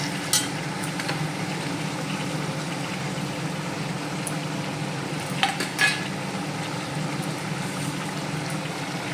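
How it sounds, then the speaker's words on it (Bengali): Ginger is stirred together with a ground cumin, coriander and tomato paste in a pan, a steady low sizzle broken by a few light scrapes and clinks of the spoon against the pan. "আদা দিয়ে আগে মিক্স করে নিই।"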